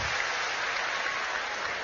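An audience at a televised talk show in a university hall claps loudly and steadily in a dense, unbroken burst of applause that lasts about two seconds.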